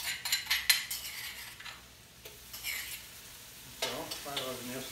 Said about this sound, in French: Faire revenir ça comme il faut.